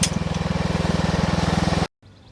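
An old tractor engine that sat unused for over a year, running after a pull start: a loud, steady, fast-chugging putter close by that cuts off abruptly near the end.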